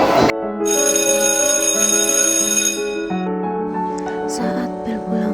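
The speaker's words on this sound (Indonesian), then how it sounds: "saat bel pulang berbunyi" A school bell rings for home time in a dramatized school scene, a bright sustained multi-tone ringing that starts abruptly, holds steady, then shifts pitch partway through, loud and close with no talk.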